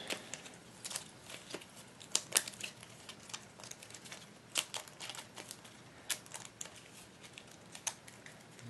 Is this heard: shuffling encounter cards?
yes